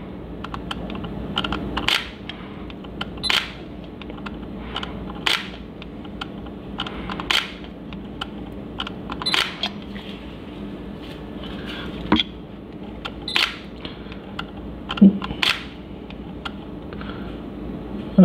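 Camera shutter clicks during an abstract ink photography shoot, coming as sharp single snaps every second or two over a quiet background hum, with no talking.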